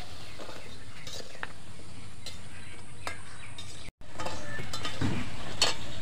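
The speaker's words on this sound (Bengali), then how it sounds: "কি সুন্দর সব লেয়ার দিয়ে ভাজা হয়ে যাচ্ছে দেখুন বন্ধুরা" Khasta gaja, layered sweet dough pieces, frying in hot oil, a soft continuous sizzle with scattered clinks and stirring scrapes, a brief dropout midway, then louder bubbling and utensil taps near the end.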